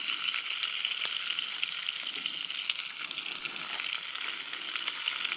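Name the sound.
trout frying in a pan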